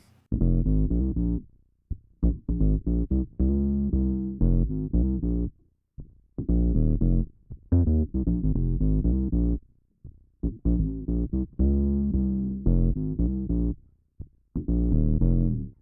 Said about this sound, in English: For people who enjoy a good old octave down sound, I got a perfect preset.